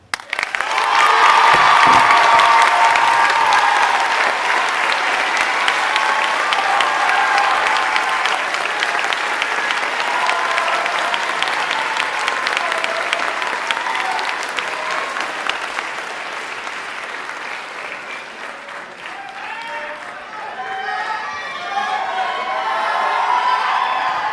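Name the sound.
audience applause at band concert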